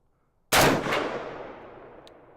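A single loud gunshot hits a steel armor target on a Triumph Systems Pivotal Trainer, a sudden sharp crack followed by a long fading ring.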